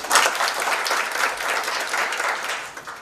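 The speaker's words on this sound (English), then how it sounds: "Maybe a round of applause for them." Audience at an artificial intelligence community meetup applauding, a dense burst of clapping that rises quickly and holds steady for a few seconds before tapering off.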